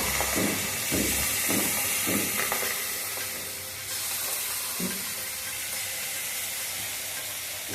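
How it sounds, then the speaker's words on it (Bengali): Steady, loud sizzling and hissing of pabda fish frying in oil with mustard spice paste over a low flame, with a few soft scraping stirs near the start. "মশলার সাথে সাথে মাছটাও ভাজা হতে থাকবে"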